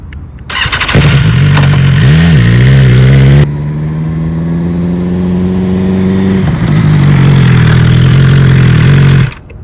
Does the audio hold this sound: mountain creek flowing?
no